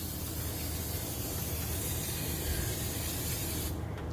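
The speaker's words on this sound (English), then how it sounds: "Any place I think that there's oil, we're just going to spray it." Continuous hissing spray from a spray bottle, steady and close, running for several seconds before cutting off abruptly near the end.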